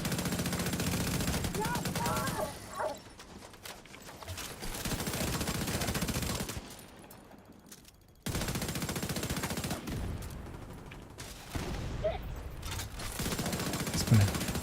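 Automatic weapon fire in the video game The Division 2 rattles in long rapid bursts broken by short pauses, loud and close, with some voice in between.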